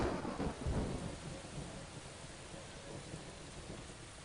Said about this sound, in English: this rain and stuff can just go away for a little bit.